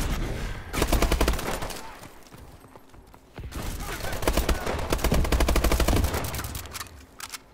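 Automatic fire from a BAL-27 rifle in Call of Duty Advanced Warfare: two long, loud, rapid bursts of shots separated by a short quieter gap.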